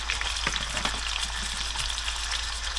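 Steak stir fry sizzles steadily in a hot pan, a close continuous hiss of frying with small pops and a faint low hum beneath, no talk.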